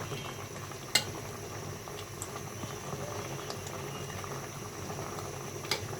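A pot of tomatoes bubbles at a steady boil on the stove, a continuous close, moderately loud churning with a couple of sharp clinks from the pot, no voices.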